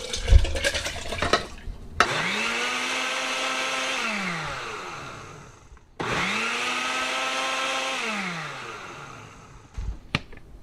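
A countertop blender pulses a watery homemade body lotion with melted wax, two long whirring bursts with rising and falling pitch separated by a short pause, loud and close with no talking.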